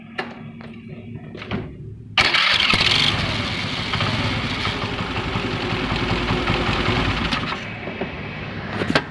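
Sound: Honda Activa scooter self-starter making odd noise from bent crankshaft

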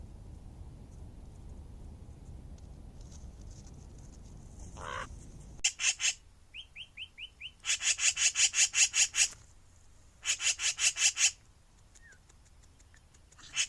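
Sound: sticks and grass rubbing against camera

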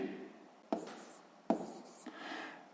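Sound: writing down a maths solution

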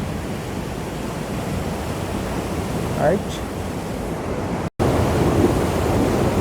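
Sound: rushing waterfall

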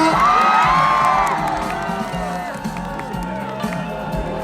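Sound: audience applause

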